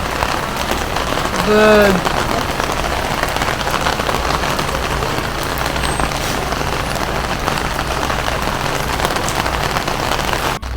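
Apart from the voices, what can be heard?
rain falling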